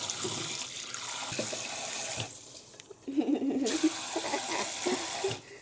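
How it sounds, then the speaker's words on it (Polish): A kitchen tap runs into a sink while rice is rinsed. The steady water hiss gives way to closer sloshing and swishing as the rice is stirred, then the flow picks up again. "Płucząc ryż możemy go sobie tak mieszać trochę się można nim pobawić."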